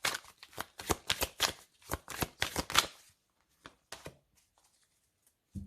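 Playing cards riffled and shuffled at close range during a tarot-style reading, a dense run of crisp flutters for about three seconds, then a few soft isolated taps and near silence.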